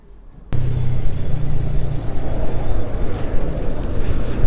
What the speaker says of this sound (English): This road here is Route 6. It's a very busy road, as you can probably see.